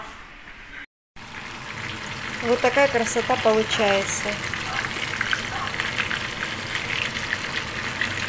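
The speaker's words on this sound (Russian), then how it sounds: "Все, продолжаем жарить." Crispy chicken pieces frying in a pan, with a continuous sizzle and crackle of hot oil throughout, while someone talks over it partway through.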